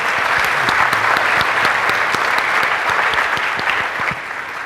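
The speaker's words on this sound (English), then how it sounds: "give a big round of applause to our panelists here" A crowd gives the panelists of an equity careers session a sustained round of applause, dense and even with individual claps audible throughout, fading slightly at the end.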